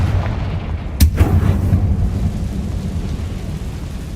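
A Confringo fire-blast spell goes off in Hogwarts Legacy as a single sharp, loud explosive boom near the one-second mark, followed by a rolling rumble that slowly fades over a low ambient bed of game sound.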